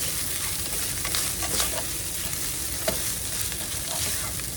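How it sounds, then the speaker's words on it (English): Ground meat stirs and fries in a pan with garlic for a stuffed cornbread casserole, giving a steady sizzle under scraping stirs and a few sharper clinks, with no talking. "And now I'm going to mix it in the meat."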